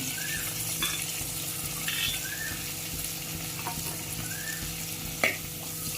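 Curry leaves, onion and green chilli fry in hot oil with a steady, close crackling sizzle, broken by a few light clinks of a spoon against the pan.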